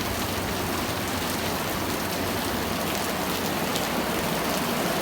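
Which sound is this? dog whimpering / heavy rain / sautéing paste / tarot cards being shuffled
heavy rain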